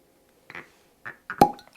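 A cork pulls from a bottle of bourbon with a short, sharp pop after a few faint squeaks and scrapes, quiet and close in otherwise near silence.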